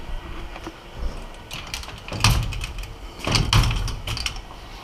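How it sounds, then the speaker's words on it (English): A car door opening outdoors on a cold morning in the bush at Monga, New South Wales, heard as a few soft clicks followed by two louder clunks of the latch and hinge, close by with no voices. "So, let's go out here, just open my door."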